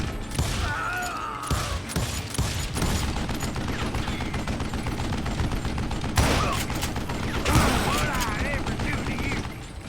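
Rapid bursts of Western-style gunfire in Call of Juarez, a fusillade of overlapping shots with mechanical clicks, loud and dense throughout with a voice talking underneath.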